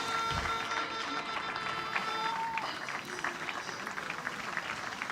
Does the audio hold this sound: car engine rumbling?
no